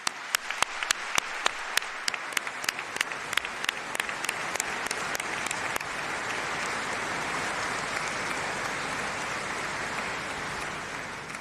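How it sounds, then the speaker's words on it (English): Graduation ceremony audience claps, starting with a few sharp, separate claps that quickly swell into sustained, dense applause filling the hall, loud and steady to the end. "give a round of applause to all those that have supported you to this point"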